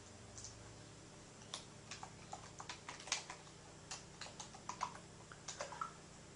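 Keys tapped on a computer keyboard while typing a search on an Acer Revo 3610 Atom Ion 330 PC, with light scattered clicks in short irregular bursts over a quiet hum, no speech.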